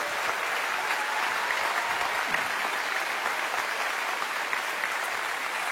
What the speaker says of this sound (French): J'aimerais qu'on applaudisse toute l'équipe